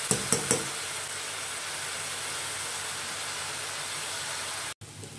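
Ground ginger, garlic and whole spices sautéing in hot oil for a kadala curry, a faint steady sizzle and hiss with a few light clicks of a stirring spoon at the start.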